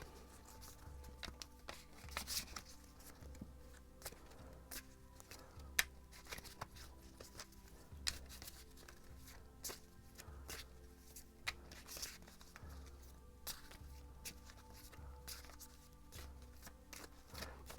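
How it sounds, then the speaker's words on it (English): Tarot cards being shuffled by hand in a quiet room, repeated soft riffling bursts and crisp flicks recurring every couple of seconds, close and fairly faint with no talking. "I'm gonna shuffle some of these cards"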